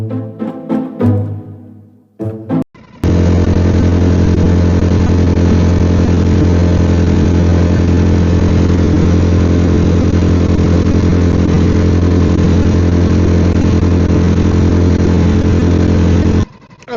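A fishing boat's engine running steadily and loudly at close range off Port Erin, a continuous droning rumble after a few brief bumps, with no talking.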